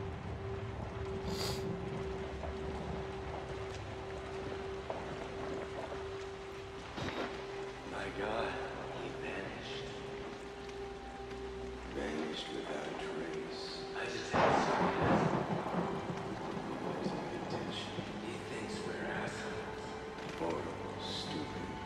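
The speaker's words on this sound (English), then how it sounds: "It's raining out." A stormy night in the horror video game Outlast gives a low, steady rumble of rain and wind, with rolling thunder swelling partway through and faint voices underneath.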